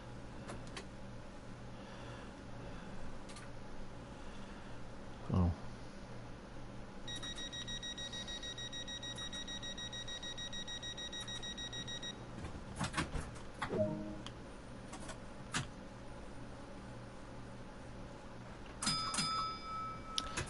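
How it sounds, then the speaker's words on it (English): A guard's buzzer in the Train Sim World 2 game sounds inside a train cab, giving a steady electronic tone for about five seconds. Later come short bursts of clicks and further beeps over a low engine hum. "I was about to ask where the guard's buzzer was."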